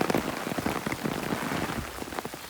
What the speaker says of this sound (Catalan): i està plovent.